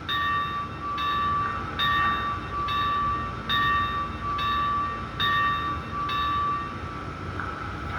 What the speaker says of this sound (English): So obviously, we have the bell.